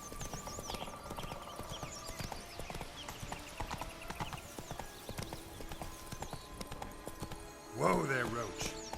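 Roach the horse trots in The Witcher 3, with steady, rhythmic hoof clip-clops over ambient game sounds, then a short whinny near the end.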